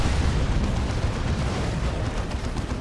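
A Tyranid bioplasma attack strikes the rear armor of a unit in the Warhammer 40,000: Dawn of War 2 strategy game, a dense, roaring burst of explosive impact noise lasting the whole moment with no voices.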